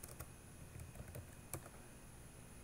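Keys clatter on a computer keyboard as a sudo systemctl command to start nginx is entered on CentOS 7: a few scattered, quiet clicks over a steady low room hum, with no talking.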